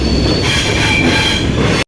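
A train between Udupi and Bengaluru, near Sakleshpur, rumbles loudly along the rails close by, a dense rolling roar with faint squeals, cutting off abruptly at the end.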